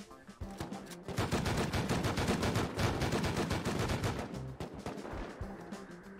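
Rapid, sustained video game gunfire, loud and dense automatic bursts firing continuously for several seconds before tapering into a few scattered shots.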